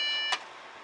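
An AMD crypto mining rig giving a single short electronic beep at power-on, faint over a steady high-pitched whine and low hum.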